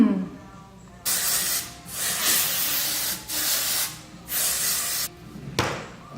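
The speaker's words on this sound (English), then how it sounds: "Now I'm gonna spray some texture spray" Several short hissing bursts of aerosol dry texture spray on hair, close by, in quick succession with brief pauses between them.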